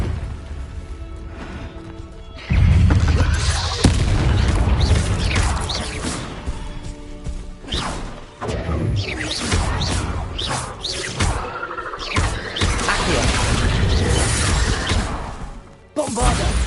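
The Bombarda blasting spell goes off in Hogwarts Legacy. Loud crashing blasts and whooshes pile onto a dense, busy game soundscape, with heavy impacts hitting repeatedly throughout.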